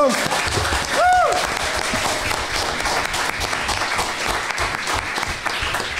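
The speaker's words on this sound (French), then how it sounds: "Applaudissez Ludo." A crowd at an anniversary gathering claps for a helper named Ludo, steady applause running the full length, with a brief whoop or shout near the start and faint voices beneath.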